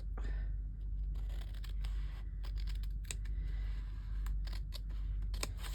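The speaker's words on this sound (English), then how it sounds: "Then I just got my scissors." Scissors cut a paper journal tag in a series of short, sharp snips at an uneven pace, close and crisp over a low background hum.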